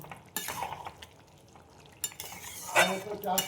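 Fried lentil fritters (bora) are stirred into a simmering Bengali curry in an open pan: a few scraping, clinking stirs of a metal spoon against the vessel, with a soft sizzle in between, close and moderately loud.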